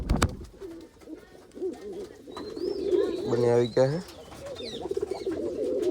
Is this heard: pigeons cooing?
yes